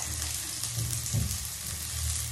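Garlic sizzling as it drops into a pan of frying onion, a steady close hiss and crackle with no voices, cooked for pancit canton with beef and shrimp.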